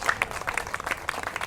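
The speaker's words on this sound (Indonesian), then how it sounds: "Berikan sorak-sorai buat Yesus" A church congregation breaks into applause and cheering for Jesus, a dense, crackly wash of clapping that stays steady at a moderate distance for the whole short stretch.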